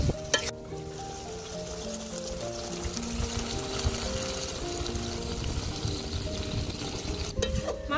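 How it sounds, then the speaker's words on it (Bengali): Chicken pieces being sautéed in oil with ground spice paste for a curry, a steady soft frying sizzle with stirring scrapes and occasional clinks of a spoon against the pan, continuous and fairly close. "মাংসটা অনেক সুন্দর ভাবে কষে নিয়েছি"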